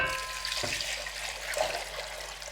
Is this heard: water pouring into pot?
yes